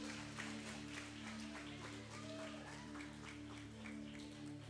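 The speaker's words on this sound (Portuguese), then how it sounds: "Você pode aplaudir o Senhor pela vida dela?" Congregation applause during a church service, a dense, steady clapping wash lasting the whole stretch over a low electrical hum, with no voices standing out.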